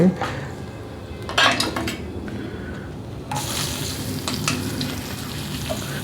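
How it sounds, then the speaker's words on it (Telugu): Green chillies and curry leaves go into a hot pan while cooking brinjal curd chutney; a bright sizzle rises midway and keeps going, mixed with metal clatter and stirring of utensils against the pan at close range. "పచ్చిమిరపకాయలు కరివేపాకు వేద్దాం"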